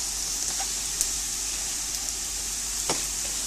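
Meat sizzling in a hot pan of cooked-down spaghetti bolognese sauce, a steady close hiss with occasional sharp pops and crackles, no talk.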